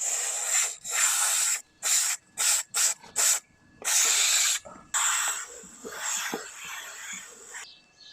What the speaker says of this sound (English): It's just a matter of spraying it onto the chain, let it soak in, give it a wipe,